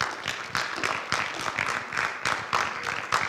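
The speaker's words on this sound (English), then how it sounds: "Give him a round of applause" Players at a football banquet clap for an honored running back, a fairly quiet, uneven applause with individual claps audible in a rhythmic patter.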